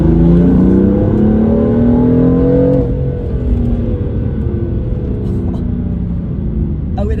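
A BMW M3 F80 accelerates hard, its engine note rising in a loud, close, sustained pull for about three seconds before easing into a steadier lower drone as it keeps driving.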